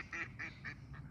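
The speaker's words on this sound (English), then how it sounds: "What does the duck say?" Several duck quacks, about four nasal calls in a steady rhythm, fairly close and loud against a faint outdoor background, as a child feeds ducks.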